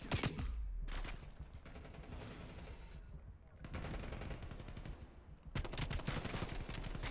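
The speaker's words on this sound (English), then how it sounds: "It's a sub. It's a fully automatic weapon" Fully automatic submachine gun fire in a competitive shooter match rattles in long rapid bursts, loud and close, broken by short pauses, with a commentator's voice faintly underneath.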